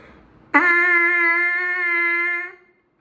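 A single sustained trumpet mouthpiece buzz, steady and close, holding one pitch for about two seconds before cutting off cleanly, heard alone.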